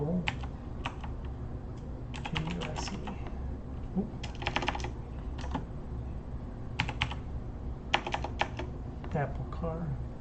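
Computer keyboard typing in quick clattering bursts during a web development session, close and clear, with pauses between runs and someone talking intermittently over it.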